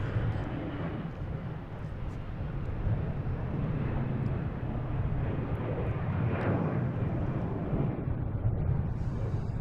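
A Delta airliner rolls along the runway at Boston Logan International Airport, its jet engines giving a steady, loud roar that holds throughout without pause.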